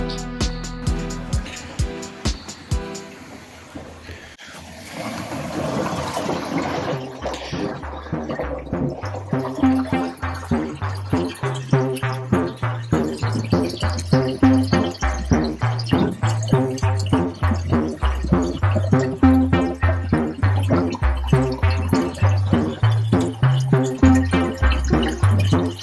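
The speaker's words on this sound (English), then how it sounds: "Sump has enough water in it to run the return pump. We've got an Ecotech Vector S2." An Ecotech Vector S2 return pump starts up in the sump of a 90-gallon marine aquarium, followed by loud, continuous gurgling and rhythmic splashing of water through the plumbing, close and dominant.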